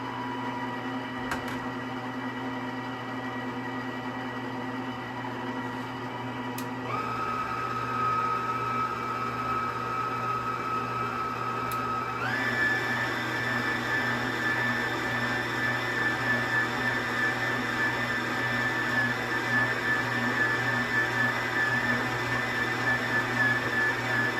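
An electric mixer whirs steadily as it beats softened cream cheese and butter, running alone at an even drone and shifting to a higher pitch partway through.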